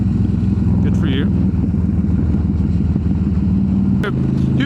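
A 2015 Harley-Davidson Street Glide with a twin cam engine rumbles steadily while riding, its deep, loud engine drone continuous and close throughout, with brief chirps and traffic noise over it.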